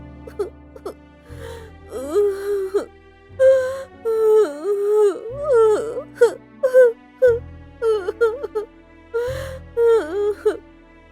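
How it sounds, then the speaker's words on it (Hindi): A voice in a Hindi animated story cries and wails in long, rising and falling moans, repeating in several anguished bursts over a low sustained musical drone that shifts in steps beneath it. "ये किसकी रोने की आवाज है?"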